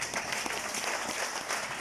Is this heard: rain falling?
no